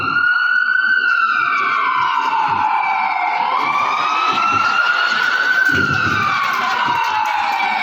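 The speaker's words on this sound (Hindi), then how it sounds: "लो एम्बुलेंस आ गई।" A loud ambulance siren wails, sweeping up and down continuously, close by, with traffic rumble underneath and a brief voice near the end.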